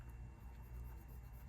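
Soft, continuous scratching of a pencil moving across paper, quiet and close, with a faint steady hum underneath.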